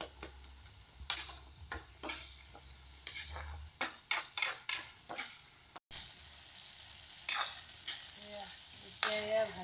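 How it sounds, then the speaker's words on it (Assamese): Tomato and spinach sizzle steadily while frying in a pan for a fish and spinach dish, with a utensil stirring and scraping against the pan in repeated clinks and scrapes close by, and no talk. "এতিয়া এয়া ভাজি আছে বিলাহীয়ে পালেঙে।"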